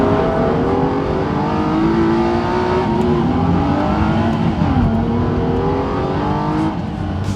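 An Aston Martin One-77 engine revs and pulls hard while driving, a loud, steady engine note with rising and falling harmonic sweeps as it accelerates, continuous throughout with no talk.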